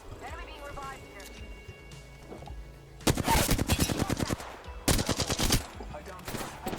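Bursts of rapid gunfire in a shooter video game, loud and close, with two dense volleys of shots after a quieter stretch, alongside in-game voice chatter.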